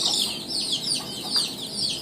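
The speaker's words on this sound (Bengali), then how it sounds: "আমাদের হলো ফ্রিতে মুরগি পুষে হচ্ছে দেশি মুরগি" Native free-range chickens clucking in a home yard where birds are also kept, giving a steady run of short, chirpy calls at moderate volume with no talk.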